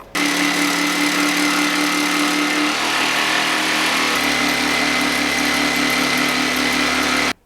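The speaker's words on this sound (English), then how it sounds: "I used my jigsaw to rough cut out the shape" A power jigsaw cuts wood, running continuously with a loud, steady buzzing whine, its pitch dropping and shifting partway through as the blade cuts.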